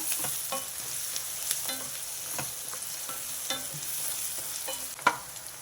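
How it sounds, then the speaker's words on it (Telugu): Small onions sautéing in oil for a drumstick and egg curry, giving a soft, steady sizzle with repeated light spoon scrapes and taps against the pan, quiet and close. "ఉల్లిపాయలు ఆ మాత్రం మగ్గితే చాలండి."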